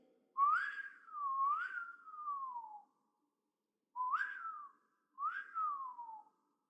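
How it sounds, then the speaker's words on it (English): A bird-call whistle sounds three times, each a clear sliding tone that rises then falls, with short silences between the calls. "I have a bird whistle."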